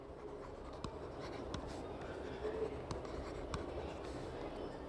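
Marker or chalk writing on a classroom board, faint ticking taps and light scratchy strokes spaced irregularly over a quiet room-noise background, no talking.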